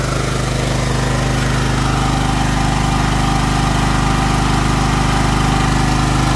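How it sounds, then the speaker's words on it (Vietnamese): A Honda EB4500 generator runs under load, giving a loud, steady engine drone with a strong low hum throughout, close up and with no talking. "Máy đang tải đây rất là khỏe luôn, rất là êm luôn."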